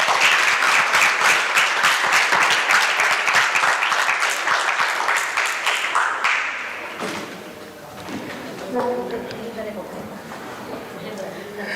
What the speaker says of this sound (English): Let her invite with a big round of applause